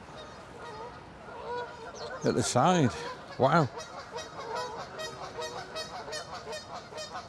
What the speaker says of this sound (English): Look at all these Canadian geese